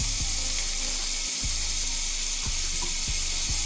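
Three tablespoons of butter sizzle in a pan for a caramelized carrot glaze: a steady, close frying hiss that runs throughout, broken by a few dull low knocks.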